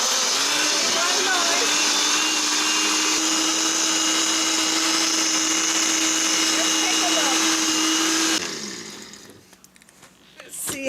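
A kitchen blender purees chili for tamales with a loud, steady high-pitched whir that runs for about eight seconds, then cuts off abruptly and winds down.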